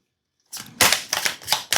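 A deck of tarot cards is shuffled up close after a brief silence, in four or five quick papery riffling bursts with short gaps between them.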